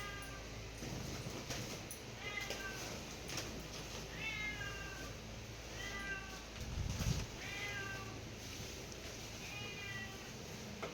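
Several cats meow repeatedly in short rising calls spaced every second or two, over a steady background hum and some clatter.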